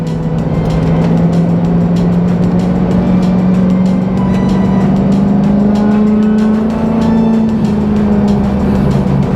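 A car's engine pulls hard in second gear on the winding AR Dragon stretch of Highway 123 south of Mt Judea, a loud close steady drone whose pitch climbs slowly and evenly throughout, with no voices.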